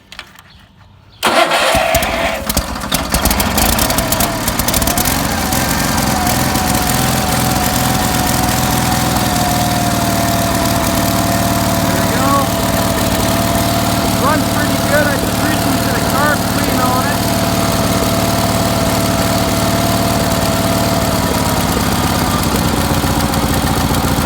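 A Sears lawn tractor's small engine starts with a burst after a second of quiet, then runs steadily at a loud, even idle for over twenty seconds, close to the mic.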